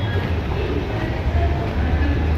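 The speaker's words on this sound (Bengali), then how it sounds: "এই যে নিচে ট্রেন যাচ্ছে।" A train runs along the tracks below Charni Road railway station, a steady loud low rumble with wheel noise that carries through the whole stretch with no voices.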